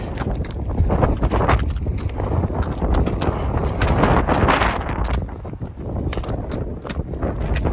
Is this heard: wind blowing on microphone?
yes